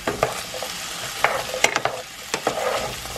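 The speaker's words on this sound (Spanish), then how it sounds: "So vamos a dorar las papitas." Potatoes brown in a pan, giving a steady close frying sizzle broken by several scraping stirs from a utensil, with no one talking.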